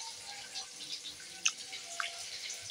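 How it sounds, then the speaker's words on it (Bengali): Raw chicken meat being washed under running water in a kitchen sink, a soft continuous trickle and splash with a couple of sharper drips, fairly faint and with no talk. "মাংসটাকে ভালো করে আমি ধুয়ে নেব।"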